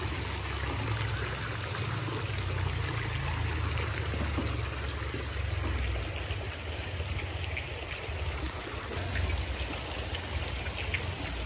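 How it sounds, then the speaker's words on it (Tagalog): Fountain water at a newly finished swimming pool flows and splashes in a steady, dense rush that continues unbroken throughout, close and fairly loud with no talking. "Pero yung tubig doon na umaagos, malamig siya."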